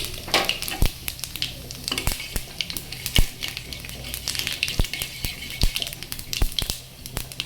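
Cumin seeds and fried ginger tempering in hot oil sizzle and crackle steadily, with sharp pops scattered throughout, close and fairly loud with no voices.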